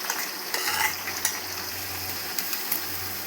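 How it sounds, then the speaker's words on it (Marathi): Ginger-garlic paste, ground coconut masala, onion and tomato frying together in a pan for chicken dum biryani: a soft sizzle beneath several sharp clinks and scrapes of a spoon stirring against the pot, no speech. "आता आपण आलं लसूणची पेस्ट टाकून घेऊया आणि हे आपण थोडंसं वाटण काढलेलं आहे खोबऱ्याचं आणि कांदा टोमॅटो आहे ते आपण सगळं टाकून घेऊया आणि हे मस्तपैकी तळून घेऊया"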